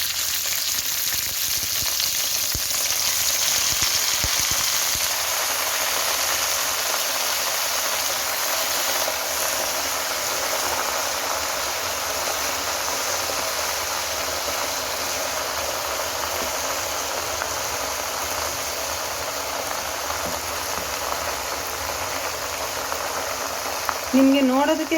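Gongura (sorrel) leaves sizzle steadily in hot oil in a pan, a continuous loud frying hiss that runs unbroken throughout.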